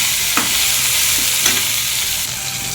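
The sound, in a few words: tomatoes sautéing in a pan for sambar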